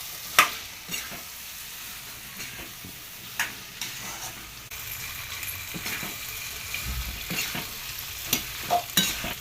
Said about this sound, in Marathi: आता हे सगळे एकदा पुन्हा फ्राय करून घेते